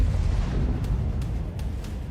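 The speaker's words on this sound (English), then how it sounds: "Explosion shatters Russian tank into small pieces." A Russian T-80 tank hits an anti-tank mine on a road, and the blast settles into a loud, continuous low roar broken by several quick crackling bursts.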